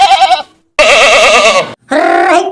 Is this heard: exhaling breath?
no